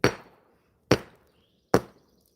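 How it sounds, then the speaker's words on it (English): A small, non-sledge hammer strikes and breaks up material in three sharp, loud, close impacts spaced evenly about a second apart, each decaying quickly into silence. "I'm going to use this small hammer now."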